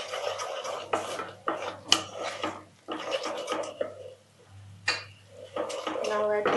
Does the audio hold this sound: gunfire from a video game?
no